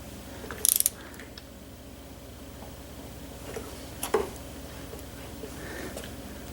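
A wrench torques a bolt on a Yamaha PW80 engine, giving a few short ratcheting clicks in two brief bursts over a quiet, faintly humming background, close and crisp, with no talk.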